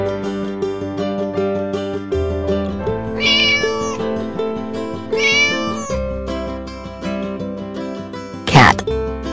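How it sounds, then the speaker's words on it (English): A cat meows twice over a children's song with steady harmonic music, the cries rising clearly above the backing, followed by a brief spoken word near the end. "Cat."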